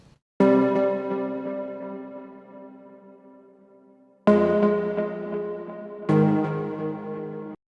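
A rich, bright preset sound from the Avenger synthesizer plays a chord alone, sustaining and fading, then two more chords strike in succession, each loud and full with many layered tones.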